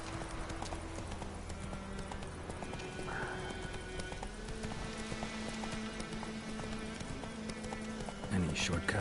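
Steady hoofbeats of Roach the horse galloping in The Witcher 3, a continuous rhythmic clip-clop under game ambience and a speaking voice, ending in a louder rustling burst.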